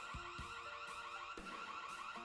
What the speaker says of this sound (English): In case somebody comes in that you aren't expecting, this thing will automatically trigger an alarm.